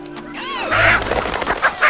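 A chicken squawks and clucks in a quick, loud run of harsh calls lasting about two seconds, close by, with a brief rising cry at the start.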